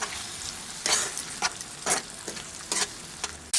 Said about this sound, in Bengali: সামান্য একটুখানি জল দিয়ে সব মশলা খুব ভালো করে মিশিয়ে নিচ্ছি